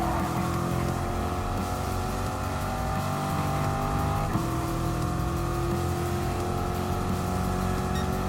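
Race car engine in Gran Turismo Sport at Brands Hatch Grand Prix, a continuous loud high-pitched drone holding steady revs with a brief gear change midway, no talk over it.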